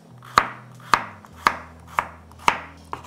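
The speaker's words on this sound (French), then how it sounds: "Et je vais les couper à l'asiatique en biseau." A knife cuts colourful carrots on the bias on a cutting board in a home kitchen, six crisp, evenly spaced chops about half a second apart, close and clear with no talking.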